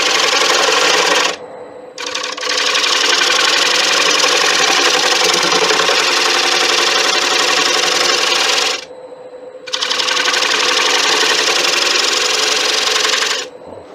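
A lathe gouge cutting inside a 17-inch acacia wood bowl, giving a loud, steady, close-up scraping hiss in two long passes separated by short pauses while the lathe keeps running.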